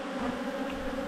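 Honeybees in an open hive hum in a close, continuous drone that holds steady over a brief moment.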